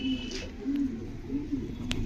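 A China bloodline homing pigeon, a former race winner, gives soft low coos in a steady repeating rhythm, fairly close, with faint background noise and a brief sharp click near the end.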